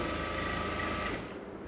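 A sewing machine hems the edge of a saree, a close, steady mechanical whirring chatter that winds down near the end.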